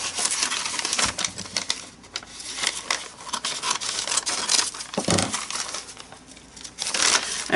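Paper is cut for a handmade drop paper journal, with crisp snipping, rustling and crinkling in quick irregular bursts, close and fairly loud with no talk.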